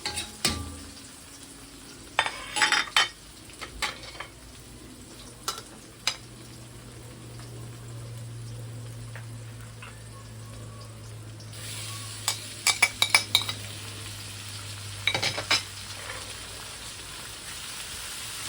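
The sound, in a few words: sautéing onion and tomato in a pan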